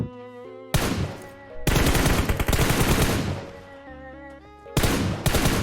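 Automatic gunfire in PUBG Mobile comes in loud sustained bursts, broken by short gaps of tonal game sound, with no one talking.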